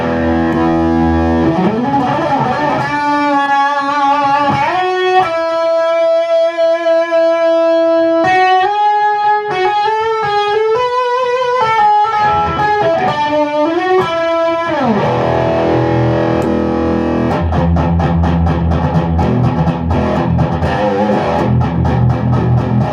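An electric guitar played through a NanoCab speaker cabinet rings out loud and continuous, moving through distorted chords, sustained single notes and a faster strummed passage, with no talking.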